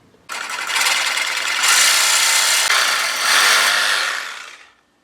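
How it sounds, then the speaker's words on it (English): A power cutting tool grinds through the tip of a long-tube exhaust header, making a loud, harsh, sustained rasp for about four seconds that swells midway and then winds down. "So I'm just going to cut that tip off so it won't hit it."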